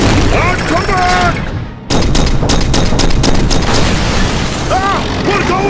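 Gunfire in a battle: loud, dense bursts of shots and booms fill the scene, with a brief dip before a rapid string of sharp reports, shouting voices and whistling sounds mixed in.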